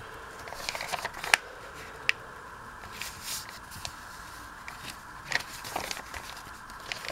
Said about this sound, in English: So now I start my folding process